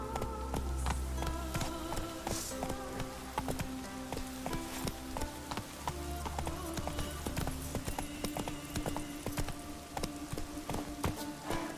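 Hooves of the horse Roach in The Witcher video game make a steady clip-clop of close hoofbeats, with game music and ambience sounding faintly underneath.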